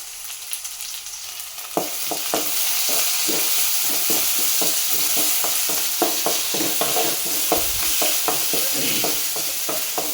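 Onions and tomatoes sauté in a pan with a lightly salted sizzle, a steady frying hiss broken by repeated clacks and scrapes of stirring, close and alone with no talk.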